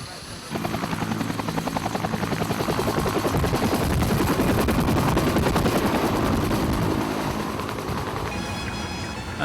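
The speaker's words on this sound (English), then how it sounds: "2 Bolivian Air Force helicopters arrived" Bolivian Air Force helicopters arriving after flying over jungle, a loud, close, rapid rotor chop building and holding steady, with voices speaking faintly beneath.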